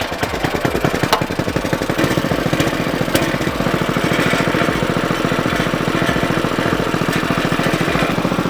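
A motorcycle engine with its stock exhaust idles steadily and loudly up close, its rapid uneven exhaust pulses continuing throughout with a few sharp clicks.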